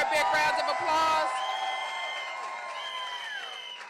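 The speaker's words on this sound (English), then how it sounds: "Give her a big round of applause." Crowd cheering and whoops in a political gathering, loud at first with dense shouting, then a sustained whistle-like tone and lingering noise as the cheering fades over about four seconds.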